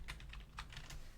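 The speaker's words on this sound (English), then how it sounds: "Oh, look, we hear the clicking." Soft, faint clicking in a quick irregular series of light taps, like a keyboard or mouse clicks, with no talking.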